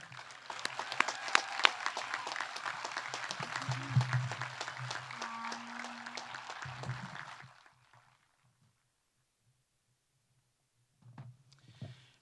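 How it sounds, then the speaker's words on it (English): Applause for the graduating class of 2020 of Cinnaminson High School at a virtual graduation, a thin, fairly faint patter of clapping for several seconds that stops abruptly, leaving near silence before a brief sound near the end. "Please join me in a round of applause congratulating the class of 2020."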